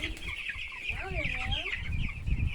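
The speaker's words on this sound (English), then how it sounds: "So these are our broiler hens." Broiler hens cluck steadily inside a farm coop, a dense chorus of overlapping calls close by with a wavering cry rising above the flock midway.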